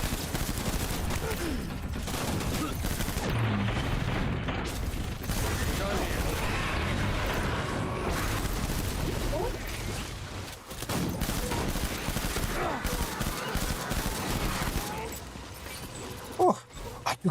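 Assault rifle fire in the video game Death Stranding, dense continuous bursts of shots rattling over a busy battle mix, with a voice talking over it now and then.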